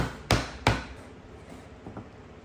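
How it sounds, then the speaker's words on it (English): Two sharp, close hammer blows strike a chisel into wood, followed by a couple of softer taps. "Going to clean up the cuts with a chisel and hammer."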